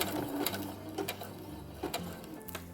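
A home sewing machine stitches fabric for a Star Wars jumpsuit pocket with a steady low motor hum and rapid needle clatter, stopping briefly and restarting, close and moderately quiet.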